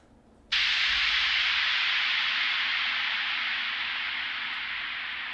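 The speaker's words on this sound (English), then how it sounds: "this is the same riser that I've reversed now, and I added a ton of reverb to this" A reversed riser drenched in heavy reverb swells in abruptly as a dense, airy wash of noise, then sustains and slowly thins over several seconds, alone with no voices.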